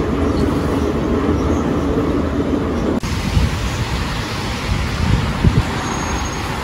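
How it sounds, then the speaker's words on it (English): Steady, loud roar of a Saint Petersburg Metro train running through the tunnel, a continuous rumbling wash with rattling and clatter from the cars, heard from inside and unbroken throughout. "It's St. Petersburg Metro."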